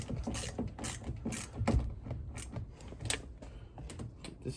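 A ratchet tightening the mirror bolts on a Honda Ridgeline or Pilot door, with close, quick, rhythmic clicking strokes that repeat steadily, with no talking.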